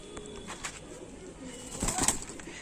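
Pigeons kept for sale cooing softly with a brief burst of wing flapping near the end, fairly close and moderately loud over a quiet room background.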